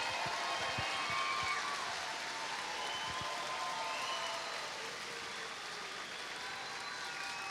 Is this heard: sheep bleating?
no